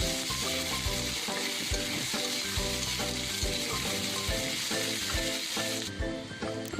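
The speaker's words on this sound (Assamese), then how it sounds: "এইখিনি চব মই ভাজি আছোঁ।" Onion pieces sizzle loudly and continuously in oil with cumin and bay leaf, cooking for an Assamese egg and potato curry, with regular stirring knocks from a spoon against the pan and no voices.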